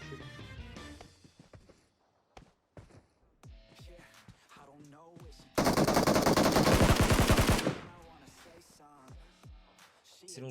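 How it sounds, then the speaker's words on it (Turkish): Automatic rapid gunfire in the PUBG Mobile battle royale game on a quarry map, a loud sustained burst of about two seconds in the middle, with scattered single shots and game sounds around it and people talking before and after. "uzaktan vurdum"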